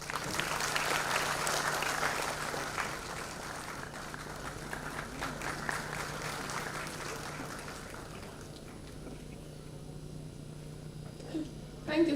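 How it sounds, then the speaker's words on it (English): Conference audience applause at an IEEE humanitarian technology event, a dense clapping that starts strong and thins out after about eight seconds, over a steady low hum, ending with a brief nearby bump. "So a round of applause for them."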